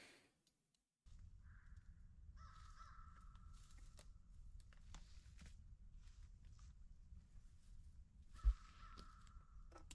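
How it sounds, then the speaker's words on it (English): An American crow caws outdoors in the Louisiana woods, a few harsh calls at moderate distance over steady low rumbling background noise, with one sharp knock near the end. "American Crow."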